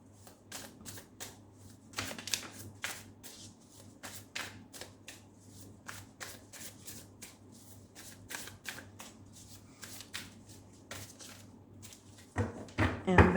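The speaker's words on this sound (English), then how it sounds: "We will shuffle and pull out 6 cards for you" A deck of tarot cards being shuffled by hand in repeated quick riffling bursts, close and fairly soft, with a voice speaking faintly over a steady low hum.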